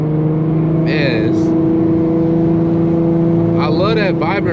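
An Infiniti G35 coupe with a loud exhaust and resonator drones steadily at cruise, a constant low engine hum with brief higher rasps as it pulls, close and loud inside the cabin.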